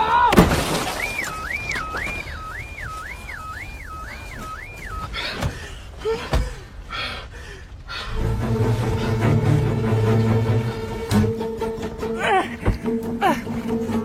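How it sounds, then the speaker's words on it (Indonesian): A car window's glass is smashed with a sharp shattering burst, preceded by a warbling whistle-like tone and followed by a steady musical drone. "Tak ada cara lain selain mempeskeun kaca mobil."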